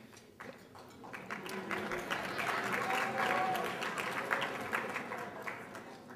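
A crowd applauds steadily, clapping swelling and holding at a loud level with some cheering mixed in, heard from within the audience.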